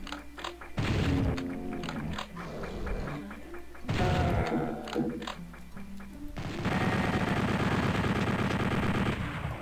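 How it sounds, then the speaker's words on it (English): Chaingunner enemies in Doom firing rapid machine-gun bursts, loud repeated rattling volleys in three separate stretches with short pauses between, the last burst long and sustained. "Make sure you see those chain gunners."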